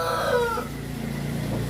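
Rooster crowing at a free-range Javanese kampung chicken farm, one loud close crow that fades into a steady low hum, with no talk.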